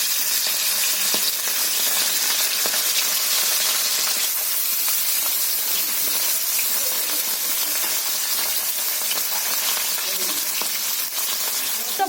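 Tilapia fish frying in hot oil: a loud, steady, close sizzle and hiss that runs unbroken throughout, with small crackles and pops.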